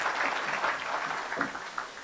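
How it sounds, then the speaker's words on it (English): An audience at a Salvation Army Christmas breakfast claps: steady, fairly faint applause from a crowd, continuous for a couple of seconds. "Let's give her a round of applause."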